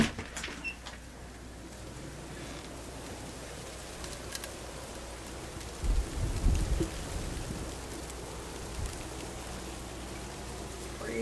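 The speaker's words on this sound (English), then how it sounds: "Freezing rain, ice pellets or something." Freezing rain and ice pellets falling outside on a nasty day, a soft continuous patter with a low rumbling swell near the middle, no talk heard.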